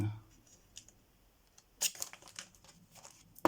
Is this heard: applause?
no